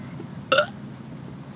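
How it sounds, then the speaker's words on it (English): A single short burp, fairly loud and close, over a faint background hum. "Do a big burp."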